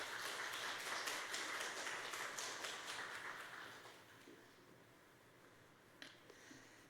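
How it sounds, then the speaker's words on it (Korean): A church congregation at Sunday worship claps in encouragement, a soft, steady round of applause that fades out after about four seconds, leaving a quiet room with a few faint knocks. "우리 위로하며 격려 박수 한번 하겠습니다"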